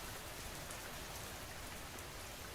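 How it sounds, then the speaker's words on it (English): Steady, dense rain falls throughout in an even wash of patter that never lets up, close and continuous with no voices, thunder or other sounds. "The rain had been falling for 3 days straight"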